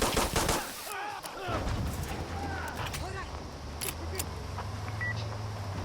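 Pistol shots crack out in Insurgency Sandstorm during a pistol match, sharp bursts scattered across the clip and mixed with other game sounds while a voice talks over them.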